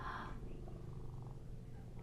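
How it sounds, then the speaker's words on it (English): Baby cheetah Izzy purring close to the microphone, a steady low rumbling purr that continues without a break throughout. "Now listen, she's purring."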